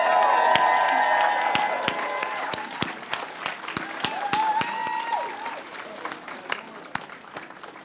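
Crowd at a political rally in Calgary, Alberta applauding and cheering, dense clapping throughout with whoops and shouts rising above it, loud at the start and tapering slightly toward the end.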